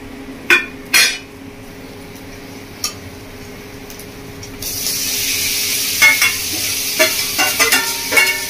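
Spiced marinated chicken stir-fried in a pan for Bengali chicken kosha. A few sharp clanks of a utensil come first, then a loud, steady sizzle begins, broken by repeated scraping and knocking as it is stirred.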